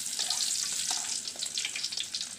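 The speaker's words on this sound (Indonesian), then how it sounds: "Nah, ini kita tumis semua ya bumbu irisnya sampai berbau harum." Sliced shallots, tomato and spring onion sauté in hot oil in a wok, giving a steady, close, bright sizzle with light stirring and no talk.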